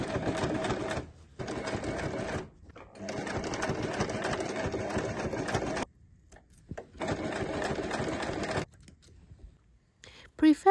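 Sewing machine top stitching leather boxes onto fabric, several bursts of rapid mechanical stitching of a few seconds each, separated by short pauses, ending with clicks.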